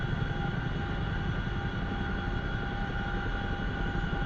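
A fighter jet's engines roar steadily through a combat takeoff in a DCS World flight simulation, with a loud, continuous broadband rumble and a sustained whine, no voices over it.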